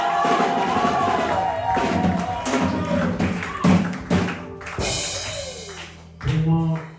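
A church congregation at a Sunday service claps and cheers in uneven bursts that rise and fall, mixed with music and voices.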